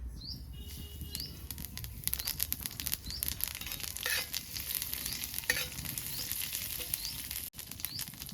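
Nigella seeds sizzle in hot oil in a pan that already holds two fried dried red chillies, giving a continuous soft crackle with light scrapes and taps near the middle, and no speech.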